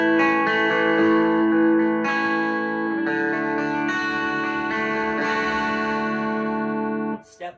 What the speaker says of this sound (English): step on the vaporizer and go to this.